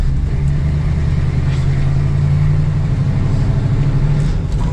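A 1971 Dodge Challenger R/T with a manual gearbox pulls hard in second gear, its engine a loud, steady droning roar that holds a constant pitch from start to finish.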